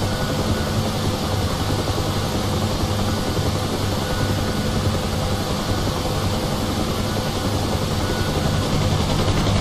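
A UH-1H Huey helicopter lifts off from a low hover in the flight simulator DCS, its engine and rotor making a constant dense roar that holds steady and loud from start to finish.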